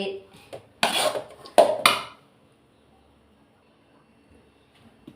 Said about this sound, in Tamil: இப்படி இது சத்தத்தில் கல் இருக்கான்னு பார்க்கணும்.